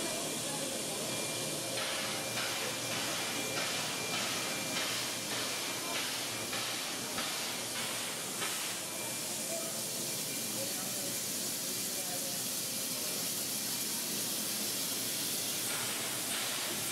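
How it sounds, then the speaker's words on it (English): Steam locomotive 3642 simmers at a platform in Sydney Central Station at nightfall, giving off a steady, continuous hiss of escaping steam, with a faint rhythmic pulsing early on and a voice talking faintly under it. "3642 is now simmering in the platform, giving us that majestic night look of steam"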